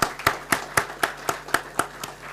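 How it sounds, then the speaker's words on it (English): Clapping for a speaker at an event: about ten regular, sharp, close claps in a steady rhythm, with no talk over them. "Round of applause once again for Riaz"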